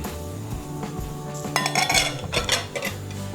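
A metal lid clanks onto a pan of marinated chicken, with a few ringing metallic knocks and scrapes close by in a short burst. No one talks.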